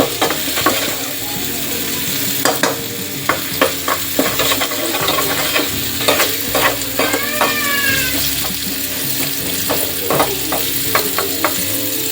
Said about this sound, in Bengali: ডালটাকে বাগার দিয়ে নিই রসুন দিয়ে